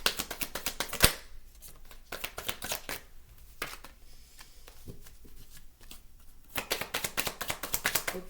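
Tarot cards are shuffled by hand in repeated riffling bursts, soft and close, with a sharp slap near the start and brief pauses between runs.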